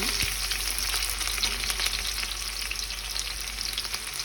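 Onions browning in a pan for toor dal, a close continuous crackling sizzle with fine pops and a low steady hum beneath, even and unbroken.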